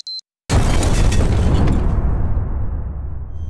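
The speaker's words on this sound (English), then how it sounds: "You just blew up two worthless clones." A loud, booming explosion blows up LEGO clone figures in a staged battle scene. It follows a brief electronic beep and some silence, then rumbles heavily and decays slowly over several seconds.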